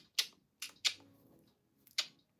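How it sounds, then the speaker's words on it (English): A vintage typewriter clacks out a few sharp, separate keystrokes, close and crisp, with short pauses between strikes and no voices. "Jay, we are typing out everyone's names on a vintage typewriter"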